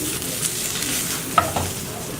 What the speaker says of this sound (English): Mix that in there with the mushroom